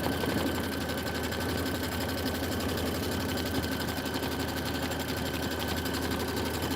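A sewing machine runs steadily while stitching a basket, a fast even mechanical whirr with rapid needle clatter, close and constant throughout without pause.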